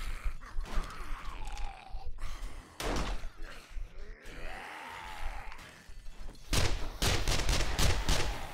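Submachine gun fire in the zombie survival game 7 Days to Die, with bursts of shots breaking out through the clip and heaviest near the end, over game noise and groaning.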